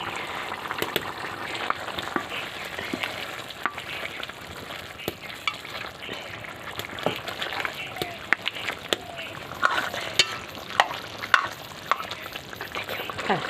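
Broken-up potatoes with a ground radhuni and cumin paste frying in a pan for a papaya fish curry, steady sizzle with frequent scraping stirs and clinks of the spoon, close and loud.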